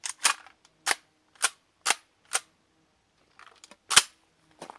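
A Kel-Tec KSG shotgun fires a series of sharp, loud reports, about six shots spaced roughly half a second apart, followed by a pause, small mechanical clicks of cycling, then another blast and a final faint pop.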